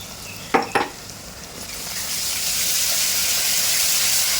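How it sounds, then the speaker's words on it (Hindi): Ginger garlic paste drops into a pan of browned onions, a couple of clinks of the spoon against the pan followed by a steady rising sizzle of frying that holds to the end, with no talking. "अब यहाँ पे मैं अदरक लहसुन का पेस्ट डाल दूँगी"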